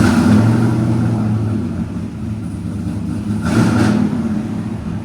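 A cammed Chevy 5.3L V8 with headers and a true dual exhaust revs as heard from inside the cabin, a loud, steady low droning roar that swells near the end, no talk.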